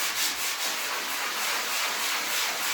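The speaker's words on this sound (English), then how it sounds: "So I'm just gonna sand it down and see how it looks." Steady, close scratchy rasping of hand sanding a drywall patch, continuous back-and-forth strokes with no talking.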